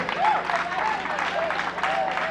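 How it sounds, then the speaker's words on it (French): Audience at a school awards ceremony applauding as a student is honoured, continuous mid-distance clapping from a crowd with a few voices calling out over it. "On applaudit s'il vous plaît."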